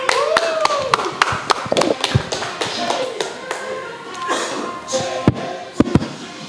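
Scattered applause at an Indonesian live comedy-style football talk show, sparse individual claps and taps sounding close and uneven rather than a full crowd, with voices and murmuring mixed underneath.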